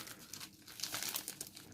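Plastic packaging from a diamond art kit crinkles and crackles up close as someone struggles to open it by hand, in uneven bursts of rustling.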